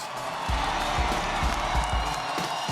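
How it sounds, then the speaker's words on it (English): A dense arena crowd at the UFC 212 weigh-in for Aldo vs. Holloway roars and cheers steadily, a loud continuous wash of noise with scattered thumps and claps throughout. "that's why this crowd right now is making this noise"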